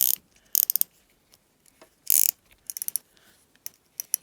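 Drag of a Piscifun Carbon X spinning reel clicking in quick ratcheting bursts with short pauses between them, close-up and fairly faint, no talking.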